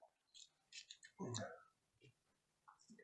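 Alphabet letter cards being shuffled by hand at an open mic magic show, giving quick papery clicks and riffles in short bursts, with a voice speaking softly in between.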